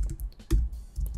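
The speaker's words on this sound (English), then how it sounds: "You can do that simply by typing in the new block name down here." Keys clack on a computer keyboard while a name is entered into AutoCAD, a short close burst of several crisp taps in quick uneven rhythm.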